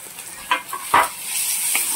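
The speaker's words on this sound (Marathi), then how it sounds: "आता हे पूर्ण सारण आपल्याला ब्राऊन करून घ्यायचं आहे." Spiced potato filling for samosas with peas, ginger paste, curry leaves and green chillies browns in a pan, soft sizzling broken by a few short scraping stir sounds close by.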